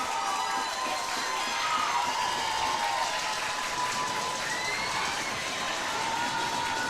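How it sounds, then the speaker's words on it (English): A crowd roars steadily at a college hockey championship game between West Virginia and John Carroll, a constant broad wash of cheering and noise heard from within the arena. "Listen to this crowd roar here, folks."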